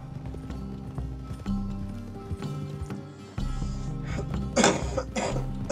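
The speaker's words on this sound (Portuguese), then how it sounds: "Tô que nem ele, ó, tossindo aqui." Cough in a Red Dead Redemption II game scene, several rough hacking bursts from a man over steady horse hoof clip-clop and ambient game sound, fairly close and moderately loud.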